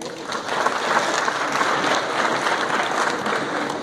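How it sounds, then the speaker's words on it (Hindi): Close, lively clapping from a crowd at an NAPM gathering, a thick continuous patter of many hands lasting a few seconds with no speech over it. "उनके लिए एक बार हम लोग तालियां भी बजाएं"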